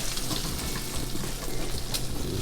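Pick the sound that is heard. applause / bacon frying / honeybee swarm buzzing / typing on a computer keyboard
bacon frying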